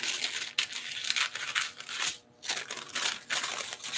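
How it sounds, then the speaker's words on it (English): Plastic packaging from a hoard of craft supplies crinkles and crumples close up in repeated loud bursts, with one brief pause midway. "so we're not crinkling"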